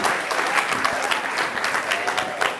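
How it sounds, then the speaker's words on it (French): A crowd at an outdoor gathering in Yaoundé applauds with brisk, dense clapping and scattered louder claps, a few voices audible underneath. "On peut applaudir pour lui, on peut applaudir."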